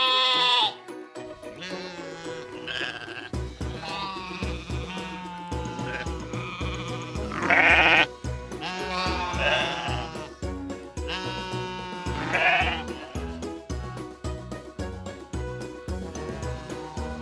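Farm sheep bleat in a series of loud, wavering calls, several separate bleats spread across the stretch over a busy background of music.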